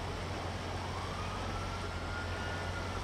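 A police car siren in the video game Grand Theft Auto V, a faint, distant wailing tone held steady under a continuous noisy driving backdrop, with no speech.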